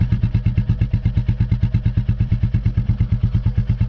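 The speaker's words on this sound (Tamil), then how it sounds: "இது தாங்க வண்டி ஸ்டார்ட் பண்ண உடனே வர சவுண்டு." A Royal Enfield Classic 350 motorcycle, just started, idles with a loud, close, evenly thumping single-cylinder beat that repeats rhythmically throughout.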